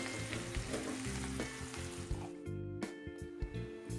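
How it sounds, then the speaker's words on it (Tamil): Mint leaves sautéing in a pan for thuvaiyal, a steady close sizzle with occasional soft stirring scrapes and taps, the frying easing slightly toward the end, no talking. "இப்போது புதினா நல்லா வதங்கியிருக்கு"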